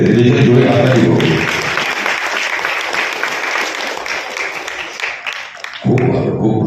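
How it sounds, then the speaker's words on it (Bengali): A stage audience at an Independence Day celebration at the Saraswati Natyasala theatre breaks into loud, sustained applause for about six seconds. Some tonal sound rises beneath it at the start and again near the end. "জীবনের প্রথম স্টেজে রেজাল্ট জোরে হাততালি হোক।"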